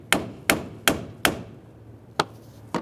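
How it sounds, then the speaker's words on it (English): Sharp metallic hammer strikes ring out, four evenly spaced then two more after a pause, as a pry bar and hammer separate the steering shaft from the rack on a 1999-2006 Chevrolet Silverado 1500 with a 4.3L V6, close and alone. "you may have to use a small pry bar and a hammer, and we'll just try to separate the two ears"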